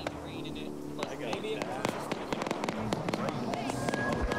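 An RPG and gunfire in a military video game at an abandoned Russian base, a string of sharp cracks and blasts scattered through the clip, with voices talking over them.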